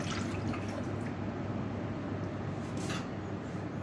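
Milk poured from a two-cup measure into a Thermomix TM5 bowl, a steady close liquid splash and trickle that runs without pause for a few seconds, fairly faint against room noise.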